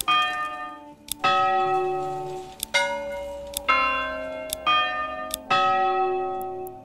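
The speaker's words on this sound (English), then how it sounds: "You can change the bell." A church bell in the medieval city builder Manor Lords tolls six times at a slow, even pace, each clear metallic strike ringing out and decaying before the next.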